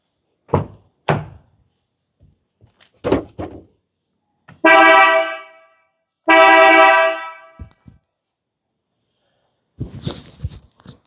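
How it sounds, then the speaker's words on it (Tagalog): A Mitsuba electronic car horn fitted to a Toyota Hilux GRS, made in Japan, sounds in two loud, sustained blasts of a bit over a second each, with scattered thumps and clunks before, between and after. "We'll do a sound check on the horn."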